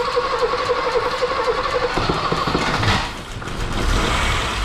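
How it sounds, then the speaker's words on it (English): An older BMW E30 engine cranks and catches, settling into a steady running rumble, close and loud with no voices over it. "When I first started it, it fired right up."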